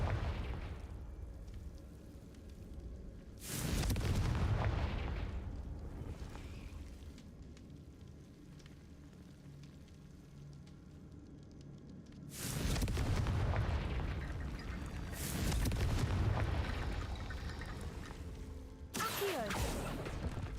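Spell explosions in Hogwarts Legacy on Switch 2 go off as three heavy booming blasts with a burst of crackling debris, spaced several seconds apart over a low rumbling background.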